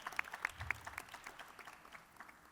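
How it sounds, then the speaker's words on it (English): A theater audience at Radio City Music Hall in New York claps steadily, a faint, distant wash of many hands with a few sharper claps up front. "Let's give the Radio City Music Hall a round of applause"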